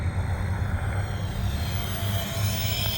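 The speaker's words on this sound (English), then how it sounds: "This is a really nice flying airplane." An E-flite UMX ME-262 model jet airplane flies overhead with a steady, continuous electric whine and drone that holds at an even loudness over a low outdoor rumble, with no talking.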